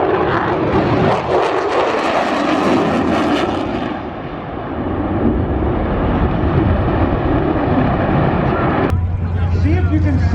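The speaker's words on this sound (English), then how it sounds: "Here comes the Raptor doing a go-around." Loud, roaring jet engine noise of an F-22 Raptor fighter doing a go-around overhead at an airshow, swelling and dipping as it goes by, close and overwhelming.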